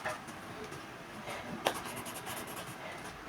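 Fabric is marked while drafting a fitted trouser pattern, making soft, faint scratchy strokes and light rubbing close by, with one brief tap partway through.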